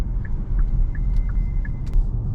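A Kia EV6 electric car cruising on the I-95 highway in eco mode, giving a steady low road rumble and tire noise with a few faint chimes above it and no talk.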